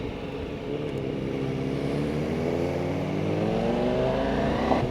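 A 2023 Ducati Multistrada V4 S engine accelerates steadily past 5,000-6,000 rpm, its pitch climbing smoothly over several seconds, heard at moderate distance with a continuous rising drone.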